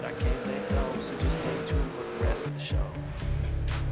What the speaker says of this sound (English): On lap 121, we get another wreck when Jacob Roloff gets into Greg Forian.